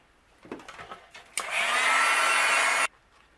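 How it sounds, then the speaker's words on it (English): Heat gun melting embossing powder on a cardmaking stamped sentiment: after some faint handling noises, a loud steady blowing whoosh runs for about a second and a half, then cuts off abruptly. "I'm going to use my heat gun and we'll melt it"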